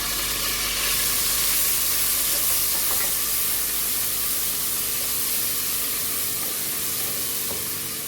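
Steady, bright sizzling of ground ginger paste frying in hot oil for mash daal, close and continuous, with a few faint scrapes and clinks, no voices.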